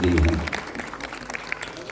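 An audience claps for a dance performance at a Uttarakhand cultural program, with a voice over the start of the clapping and then a looser patter of hands that continues on its own.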